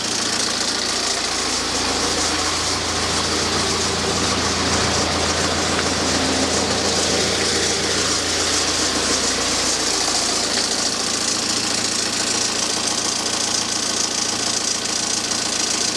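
Engine running steadily after finally starting despite a snapped glow plug, a loud continuous idle with a rough knocking rattle throughout, close up and alone with no talk.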